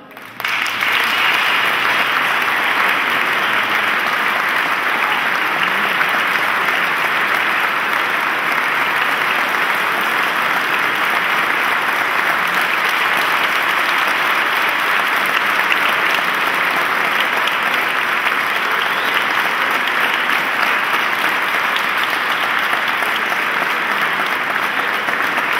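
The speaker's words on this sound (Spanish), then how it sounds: "Pido un aplauso" An audience at a 2013 Christmas concert breaks into sustained, loud, even applause. The continuous wash of clapping lasts about twenty-five seconds without letting up.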